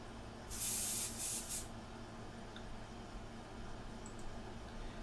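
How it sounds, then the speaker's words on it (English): A short burst of an airbrush spraying India ink, hissing for about a second in a couple of quick pulses, then quiet background hum. "I'm just going to spray that out."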